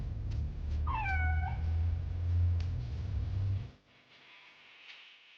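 A cat gives a single clear, close meow early on over a steady low background hum that cuts out near the end, leaving quieter room noise.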